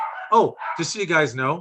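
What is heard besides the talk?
dogs barking at home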